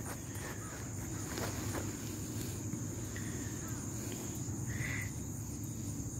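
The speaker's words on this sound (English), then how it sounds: "Crickets, crickets, and more crickets." Steady crickets chirping fill the background alongside a constant low rumble, with a few faint bird calls breaking through now and then.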